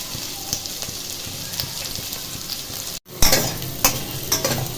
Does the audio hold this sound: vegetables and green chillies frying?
yes